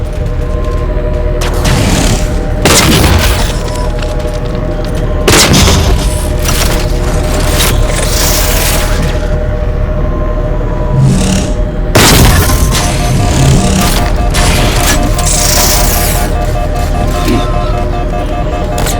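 Halo 4 campaign combat with constant gunfire and repeated heavy booming explosions over a dense, loud battle din, and voices shouting among the noise.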